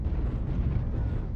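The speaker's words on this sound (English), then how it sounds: "Warning, incoming missile." A missile explosion in a video game booms as a deep, continuous rumbling roar that stays loud and dense for its full short length, with no other distinct sounds standing out.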